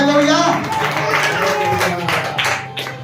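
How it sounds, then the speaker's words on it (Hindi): A congregation at a Hindi-language church fasting prayer service claps loudly and steadily, a dense patter of many hands under ongoing voices. "जोरदार ताली बजा दो"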